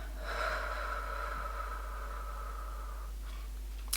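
A slow, steady exhale during a breathing exercise, a soft airy breath lasting about three seconds, quiet and close, followed by a short faint breath and a small click at the end.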